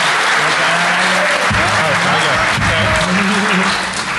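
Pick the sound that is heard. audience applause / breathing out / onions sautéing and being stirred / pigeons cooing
audience applause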